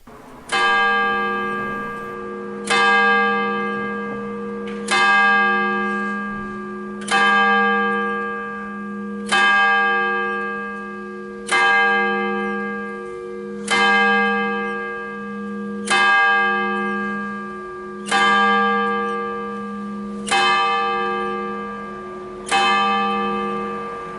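Church bell in the tower of St Léger sur Dheune church tolling about ten strikes at an even slow pace, each ringing stroke loud and close with a long humming decay between hits.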